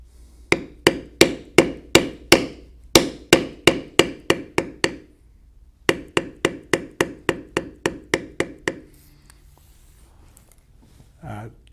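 A mallet taps a beveling tool on leather, carving the hind leg of a standing buffalo design, with sharp, evenly spaced strikes in two runs separated by a brief pause, then a faint rustle.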